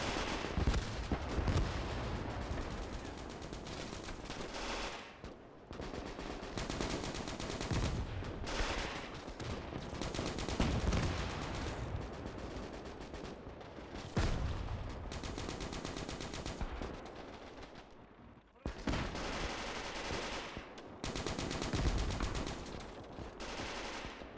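Gunfire bursts and explosions from a Panzer IV tank engaging Soviet infantry at range in the Gates of Hell war game come in dense, loud volleys separated by short pauses.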